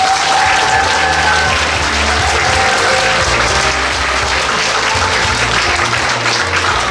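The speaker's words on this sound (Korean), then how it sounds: "마음만큼 박수 부탁드립니다" An audience at an education communication event applauds loudly and continuously, dense clapping filling the whole stretch with a faint crowd murmur beneath.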